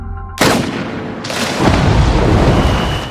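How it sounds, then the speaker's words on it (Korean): Starting pistol fired at a swimming race in a film scene: a sudden loud crack, then a second burst and sustained noisy wash with no speech. "피타는 출발 총성이 두려워 항상 늦게 출발하죠"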